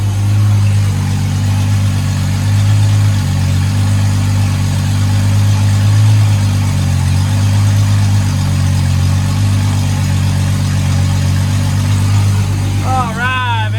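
A Toyota 2JZ engine idles steadily on its first start, a loud continuous low rumble with slight fluctuations throughout, and a brief higher whine near the end.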